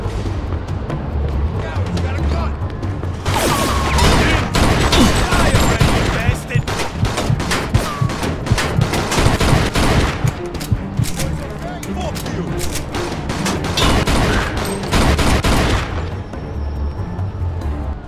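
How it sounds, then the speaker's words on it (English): Gunfire rattles through a shootout in the video game Mafia II, dense rapid volleys and single shots over roughly eighteen seconds, loud and close, with voices talking in between. "Yeah, we got a gun. Fire right here, Ben."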